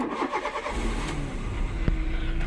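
A VW Polo Limited Edition with 95,000 miles cranks briefly and fires into a steady, quiet idle, close by with no talk.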